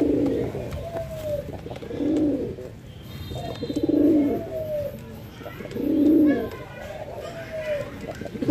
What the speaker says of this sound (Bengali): দর্শক বন্ধু, আমরা এই মুহূর্তে দেখতে পাচ্ছি এখানে বেশ কয়েকটা কবুতর